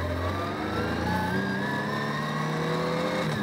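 Ginetta G56 GTA race car accelerating out of the pits onto the Blyton Park track, a loud close engine rising steadily in pitch with dense harmonics, continuous with no talk.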